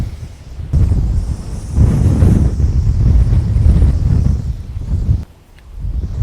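Strong wind buffets the microphone in loud, rumbling gusts, with a brief lull near the end before it picks up again.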